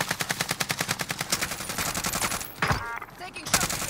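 Automatic gunfire in Call of Duty Warzone (Cold War season): a rapid, rhythmic stream of close shots, followed by a brief lull and then a sharper, heavier burst.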